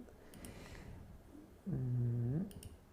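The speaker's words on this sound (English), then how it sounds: "this is a sound of a cello play with a double string." A brief, quiet bowed cello double stop, two low notes sounding together for under a second, amid faint background noise and clicks.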